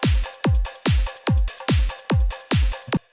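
A goa trance beat programmed in Ableton plays alone, with full-velocity closed hi-hats ticking over steady booming kick thumps in an even, repeating four-on-the-floor pulse, loud and dry.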